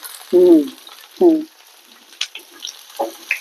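Milk tapioca (paal kappa) being stirred in a hot pan, with two loud, squeaky scraping strokes of the utensil followed by lighter clatter and a soft sizzle, close by and with no talking.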